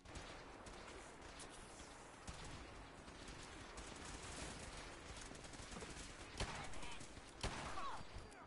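Enemy gunfire aimed at the player in Fallout 4, faint bursts of rapid shots with a few sharper cracks, partly under a speaking voice.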